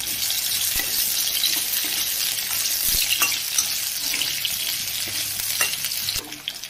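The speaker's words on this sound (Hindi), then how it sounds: "अभी बढ़िया से आलू को फ्राई भी कर लेना है" Potatoes frying in a pan for a mixed paneer, tomato and pea curry, giving a steady close sizzle with scattered pops and crackles and occasional stirring clatter, with no voices.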